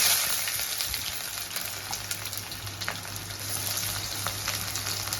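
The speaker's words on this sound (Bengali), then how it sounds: "গরম হয়ে যাওয়া সর্ষের তেলে প্রথমে একটা গোটা ছাড়ানো কাঁচা লঙ্কা দিয়ে দেব।" A whole green chili frying in hot mustard oil makes a steady, dense crackling sizzle that holds close and even throughout, with no voices.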